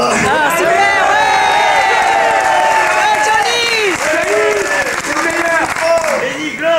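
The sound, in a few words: cinema audience cheering and applauding Johnny Hallyday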